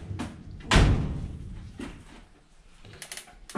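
The door of a washing machine swings shut with one solid thud and latch click, followed by faint mechanical clicks and small rattles.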